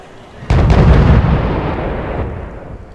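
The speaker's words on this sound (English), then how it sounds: "And now they got two of my tanks, T-55s, with this rocket barrage." Rocket barrage explosions in a military strategy video game, striking T-55 tanks: a sudden heavy blast with several quick booming hits, then a long loud rumbling decay, close and with no talk.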